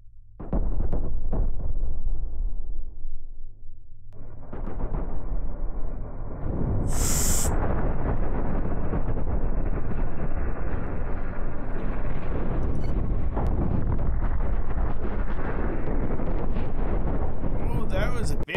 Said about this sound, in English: Oh, that was a big explosion.